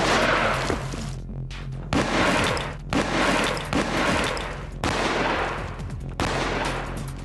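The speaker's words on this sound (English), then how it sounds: "Each side will be shot at from point-blank range with this reproduction cannon." A reproduction cannon fires point-blank at a brick wall section, a series of loud, booming blasts roughly a second apart, each with a rumbling tail overlapping the next.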